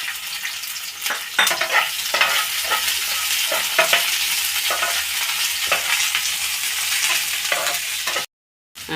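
Onion frying and being stirred in a pan for a chutney, a continuous sizzle broken by repeated scraping strokes of the spoon, close and fairly loud, ending in a brief drop to silence.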